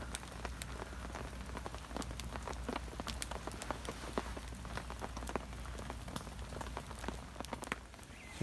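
Rain pattering steadily on surfaces at a wet river bank hammock camp, a dense, close patter of individual drops with a low constant hiss and no voices.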